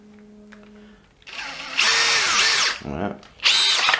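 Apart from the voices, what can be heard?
Makita DF032D 12V drill driving screws into softwood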